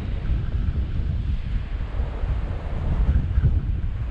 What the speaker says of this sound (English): Wind is still howling out there.